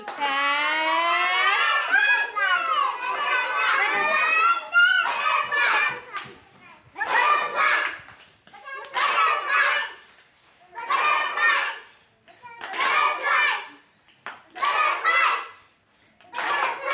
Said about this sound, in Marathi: चला परत एकदा सार्थक साठी जोरदार टाळी.